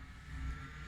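Road traffic passes at a distance, a low, steady rumble of engines with a faint broadband hiss, quiet and unbroken for a brief moment.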